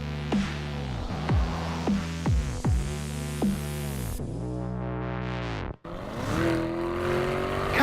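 A Lamborghini Urus engine revs hard in several sharp bursts with crackling pops between them, then holds a long rising roar, cuts out abruptly, and surges again, loud and close.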